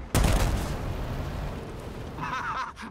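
A tank's main gun fires once in the World of Tanks Operation Overlord mode, a loud booming blast near the start that rolls off into a long rumbling decay, followed by faint mechanical game sounds.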